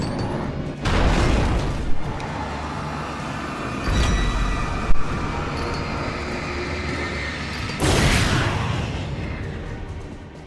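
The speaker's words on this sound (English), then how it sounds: "We just took a train to the face." In the Alan Wake video game, a train slams into the player with heavy rumbling and booming impacts. Loud roaring bursts rise and fall over a constant low drone, with a sharp thud midway and a big surge near the end.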